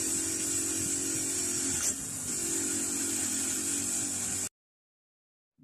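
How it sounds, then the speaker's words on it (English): A wire wheel grinds over a pair of old tin snips being cleaned, giving a steady, loud, high whirring hiss with a brief dip in pitch partway through, then the motor cuts off into silence. "we'll take it over to the wire wheel and just give it a quick clean"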